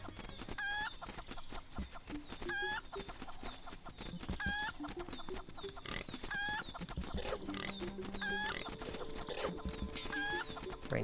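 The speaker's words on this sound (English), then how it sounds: "Bring the chicken over here." Repeated chicken clucks from Link's Awakening ring out in short rhythmic bursts over busy, continuous game music and sound effects, loud and steady throughout.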